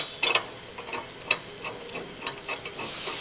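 A ratchet tool drives a bolt into a rear trailer hitch on a Land Rover Discovery 4, giving short irregular bursts of clicking and metallic scraping, fairly close, with no talking.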